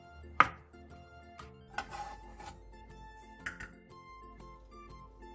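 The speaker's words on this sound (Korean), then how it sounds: "죽순을 크기에 따라 3에서 5등분 한 뒤 먹기 좋은 크기로 길게 채 썰어주세요." A knife cuts boiled bamboo shoots into long thin strips on a cutting board, giving a few sparse, crisp chopping knocks spaced apart over faint background music.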